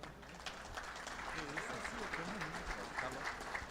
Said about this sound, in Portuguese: através de uma salva de palmas